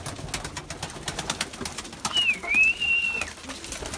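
Pigeons in a grandfather's breeding loft, with one drawn-out, high, wavering call rising above a low, steady background of rustling and soft loft noise.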